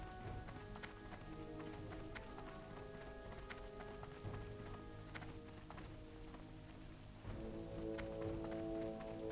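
Rain falls on the desert of Silithus in World of Warcraft, a faint steady patter running under rhythmic hoofbeats of a running mount, with a slight swell toward the end.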